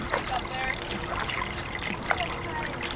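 Water trickles and splashes gently around a canoe paddled up a creek during a marathon canoe race, with small dribbles and paddle splashes close by and faint voices in the background.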